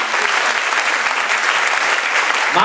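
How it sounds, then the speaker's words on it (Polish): Applause from a cabaret audience for a performer on stage, a loud, dense and continuous wash of clapping that keeps going to the end, with a brief voice creeping in at the close. "Więcej brawa dla pana Artura."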